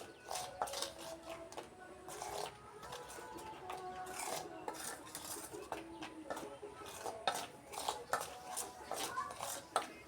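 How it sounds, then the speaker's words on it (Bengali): Spices, salt, chilli, turmeric and nigella seeds are mixed together in a bowl for hibiscus flower fritters, giving a steady rasping, rubbing scrape with repeated strokes close by and no talk. "এবার আমি এই উপকরণগুলো একসঙ্গে মিক্স করে নেব"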